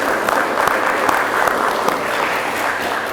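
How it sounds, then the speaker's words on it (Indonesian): An audience in a seminar hall gives warm applause to three speakers. Many hands clap in dense, lively bursts for a few seconds at close range. "Kita berikan aplaus yang meriah untuk ketiga narasumber kita pada hari ini"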